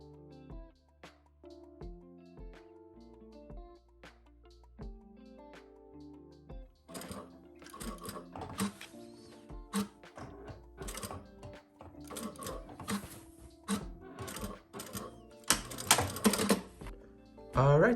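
A sewing machine stitches a second topstitch line on women's shorts, starting with a few slow, spaced clicks of the needle, then running in bursts of fast, loud mechanical whirring and rattling, up close.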